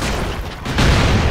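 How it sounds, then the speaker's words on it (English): A video game explosion: a dense, loud, broadband blast of rumbling noise that dips briefly and then swells again, filling the whole moment without any voices. "And explosions."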